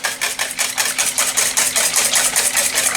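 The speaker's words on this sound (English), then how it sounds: "And we whisk that up." A whisk beats mustard into a quiche filling in a bowl, with rapid, steady, rhythmic strokes up close and no talking.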